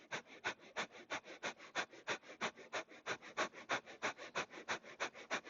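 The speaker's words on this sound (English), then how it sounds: "Bastrika breath for 20," Rapid, forceful bhastrika yoga breaths taken during a standing flow, about twenty sharp nasal exhales in a steady quick rhythm, close and fairly quiet, with no talking.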